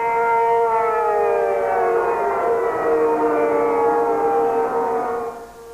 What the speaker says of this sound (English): Those still asleep, however, were roused by the daunting sound of air raid sirens.